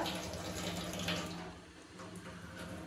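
Water runs strongly from a tap in a home kitchen, a steady soft hiss and splash that dips slightly partway through and continues, with a faint low hum underneath.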